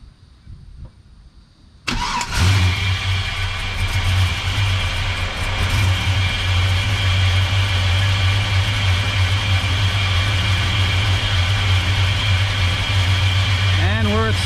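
Chevrolet Silverado engine cranks and catches after a quiet start, then settles into a steady, loud, close idle with a constant low drone for the rest of the clip, no speech heard.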